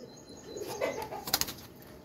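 Pet pigeons in a rural Pakistani home make soft coos and low murmurs close by, with a brief flutter of wings near the end, faint and without talking.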